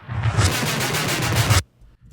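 A produced whoosh effect layered with a drum fill, treated with flanger, chorus and delay, for a Bad Guys 2 soundtrack track: a dense swelling rush with pulsing hits that cuts off abruptly, leaving near silence.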